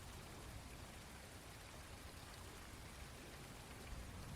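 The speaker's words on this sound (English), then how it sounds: "The patter of the soft June rain on the rooftop" Soft June rain patters steadily on a rooftop, a faint, even hiss of drops with no breaks or other sounds.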